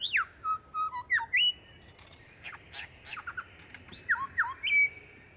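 A lyrebird in the Australian bush calls alone, mimicking other birds with a rapid string of sharp whistles, sweeping squawks and chirps in short bursts, loud and close against a quiet background.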